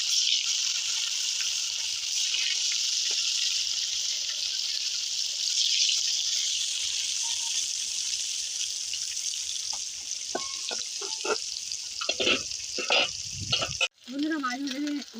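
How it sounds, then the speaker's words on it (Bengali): Rohu fish fries in hot oil with a loud, steady hiss that runs throughout, and a few clatters and a brief voice break through near the end. "এবার তেলটা গরম হয়ে গেছে, মাছটা ছেড়ে দিচ্ছি।"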